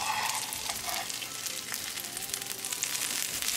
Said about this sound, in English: Cooking for 3 minutes, I'm going to turn the fish pieces over.